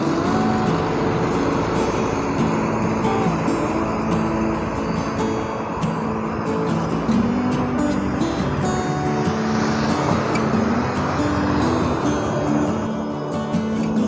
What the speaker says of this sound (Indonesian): terpantau Sinar Jaya 13RD dengan jurusan Karawang Bekasi diberangkatkan dari Terminal Duku Salam Selawi